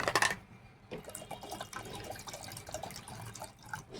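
Water poured into a cooking pot, a soft close splash and trickle with a few drips, quiet and brief, with faint kitchen clatter.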